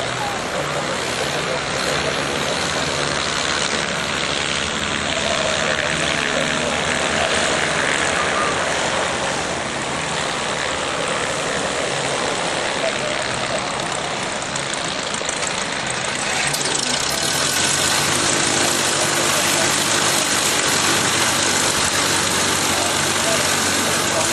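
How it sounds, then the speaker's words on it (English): Light aircraft with a roughly 120-horsepower 914 engine at a flying festival, a loud, steady propeller drone running throughout and swelling slightly near the end, with someone talking over it. "colleague Nigel here that it has a Rotax 914, I should say, which is 120 horsepower approximately"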